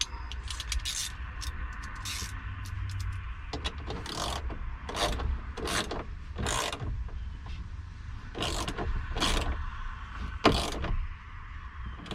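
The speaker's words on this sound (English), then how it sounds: "Then you take your good old ratchet." Ratchet tightening a glass hatch support bolt on a 1993 Nissan Pathfinder WD21, heard as a run of sharp, close clicking bursts in short repeated strokes over steady background noise.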